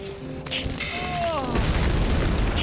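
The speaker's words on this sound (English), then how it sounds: "Oh, that was a shot." One deep booming gunshot from The Iron Plague video game, set among whistling, descending game effects and a steady rumbling background.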